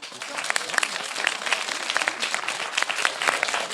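Studio audience applauds during a French talk-show debate, a dense, steady wash of many hands clapping throughout, with voices mixed in.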